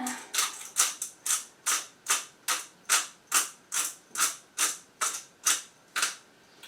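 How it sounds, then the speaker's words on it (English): An old chipped pepper grinder being twisted over food while seasoning with black pepper, giving a steady series of about a dozen crisp ratcheting crunches, close and loud, with no talk. "I really need to invest in a new pepper grinder because this one's chipped"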